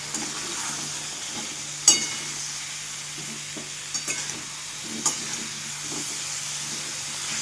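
Moringa drumsticks stir-fried with onion-garlic masala, turmeric, chili powder and salt, giving a steady sizzling hiss with occasional scrapes and knocks of stirring.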